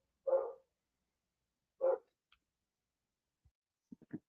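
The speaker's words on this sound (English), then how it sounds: "Dogs are upset, barking about stuff." Dogs bark two separate single woofs about a second and a half apart, moderately near but quiet, followed by a few faint short yips and thumps.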